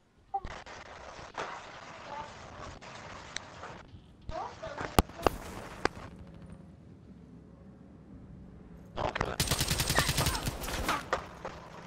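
Automatic gunfire rattles through a window during a Call of Duty: Black Ops 3 hardcore team deathmatch: scattered sharp shots early, then a loud, dense rapid burst near the end, with footsteps and voices around it.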